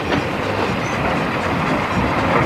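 A train rolls steadily along the rails with a constant rumble and rhythmic clickety-clack, heard loud and close from on board with no one talking.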